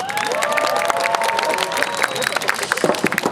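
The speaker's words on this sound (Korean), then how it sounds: "이곳에 오신 여러분께 다시 한번 환영의 박수 부탁드리도록 하겠습니다" An audience welcomes the 2024 Nexon Champions Cup final at the Yonsei University stadium with applause and cheering, a dense wash of clapping and crowd noise that holds for a few seconds.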